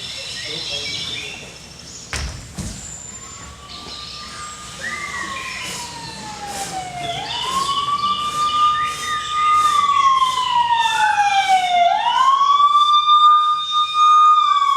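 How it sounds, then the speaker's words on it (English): Wailing emergency sirens rise and fall steadily against a busy outdoor background, growing louder and closer over time. "Suddenly, Hajime awakens to the sound of sirens and men yelling orders to one another."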